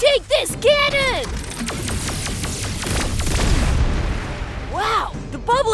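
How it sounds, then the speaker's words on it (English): A cartoon cannon blasts in an animated superhero battle, loud booming bursts rolling together over several seconds while voices shout at the start and near the end. "Take this cannon!"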